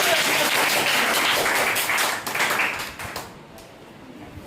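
A burst of hand clapping fills the first three seconds, dense and close, then thins out and fades into quieter room sound.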